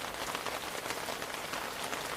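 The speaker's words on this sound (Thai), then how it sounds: "เนี่ยฟังแป๊ะแป๊ะแป๊ะลงมาอีกนะ ยังไม่หนักเท่าไหร่ ฝนตกตามพยากรณ์อากาศเป๊ะเลย" Rain falls on a cliffside campsite at Khao Kho, Thailand. It makes a steady, dense patter across the whole stretch, with no voices.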